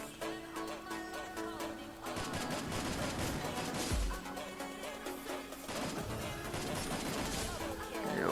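Video game gunfire from the Free Fire training ground rattles in dense, continuous bursts with short pauses, loud and busy throughout.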